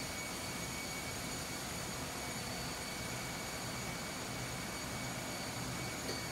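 A steady, loud mechanical roar with a constant whine fills a ro-ro ship's engine room, unbroken and droning from the main engine running nearby.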